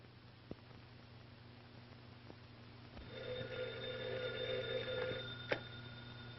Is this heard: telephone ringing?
yes